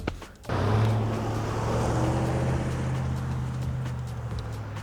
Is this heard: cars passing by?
yes